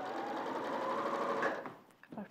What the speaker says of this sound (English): Place the sewing machine needle in, take the pin out.